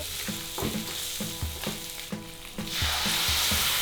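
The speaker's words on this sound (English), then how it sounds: "It's having a nice sizzle again. And then I'm going to put in the crabs." Crabs sizzle and fry loudly in a hot wok for chilli crab, the steady hiss broken by rhythmic scraping stirs about every third of a second, with the frying swelling brighter near the end.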